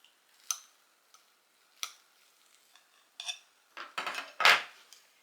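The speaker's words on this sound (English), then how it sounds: "I'm going to go ahead and cut it, and since it's in a pie pan, I'm going to cut it like pie." A knife cuts gluten-free, dairy-free apple pie baked oatmeal inside a pie pan. A few sharp clinks and scrapes of metal against the pan come close and clear, growing busier and louder toward the end.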